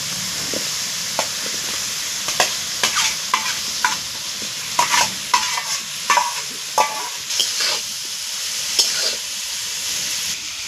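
Vegetables go into a hot frying pan with spices such as coriander powder and ginger and are stirred. A steady sizzle carries irregular scraping and clattering stirs close by, with no talking.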